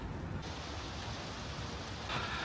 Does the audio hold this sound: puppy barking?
no